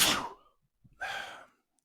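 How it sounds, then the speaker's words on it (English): A short sharp sneeze burst, then a pause and a second breathy, hissing exhale, close and fairly loud, no talking. "I feel a sneeze coming."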